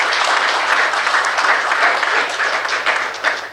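A seated audience at an institutional visit gives steady, dense applause throughout, fairly loud and close, fading slightly at the end.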